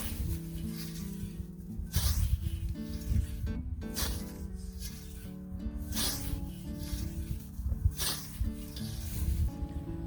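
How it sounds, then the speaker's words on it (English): Rhythmic swishing strokes of a cheap scythe blade cutting through grass, repeating roughly every second or two with soft rasping sweeps over a low rumbling outdoor background. "how do you find mowing with this very cheap scythe compared to the scythes which you are used to mowing with?"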